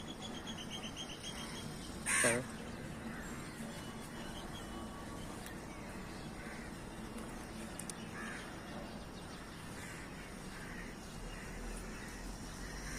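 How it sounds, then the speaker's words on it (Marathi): Outdoor birdsong with a crow cawing, one loud brief burst standing out early, then fainter scattered calls over steady ambient background noise. "कसे कसे आवाज येतात पक्ष्यांचे"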